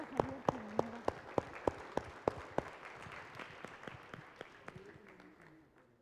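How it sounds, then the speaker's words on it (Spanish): A room of participants at a primary and secondary school education consultation forum gives themselves a round of applause, starting with sharp distinct claps and thinning into a fading patter by the end. "les quiero pedir a todos que se den un aplauso"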